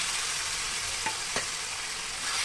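Steady sizzling of a matar paneer gravy with boiled, ground tomato added, with a couple of brief scraping stirs partway through.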